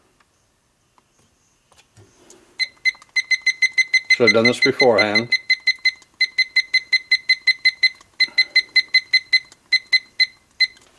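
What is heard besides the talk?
timer alarm beeping during heat pressing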